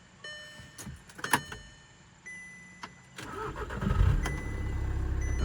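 Close, fairly quiet sequence of an Audi car after a manual transmission swap: sharp clicks and jingles, then the starter cranking, and the engine catching into a low, rumbling idle over the last seconds.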